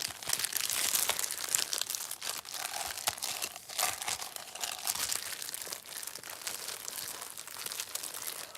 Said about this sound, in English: That sounds nice and crinkly, doesn't it?